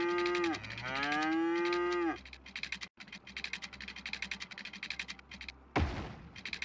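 Cows in the city-building game Cities: Skylines give two loud, drawn-out moos in the first two seconds, then a steady run of softer clicks and ambient game tones with a brief thud near the end.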